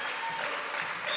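Crowd at a women's volleyball game in Tasmania cheering and clapping, a brief, broad wash of applause and noise at moderate distance.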